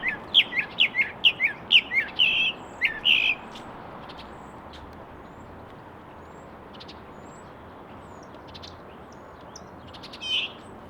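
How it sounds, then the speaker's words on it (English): Birds chirp outdoors in a quick burst of bright tweets for a few seconds, then fall quiet over a low steady background before a single faint call near the end. "check a look at these birds."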